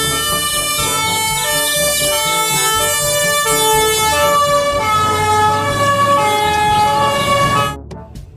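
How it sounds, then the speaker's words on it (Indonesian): A fire truck siren wailing loudly and continuously up close, with layered horn-like tones over a low engine rumble, cutting off abruptly near the end. "Mobil pemadam kebakaran."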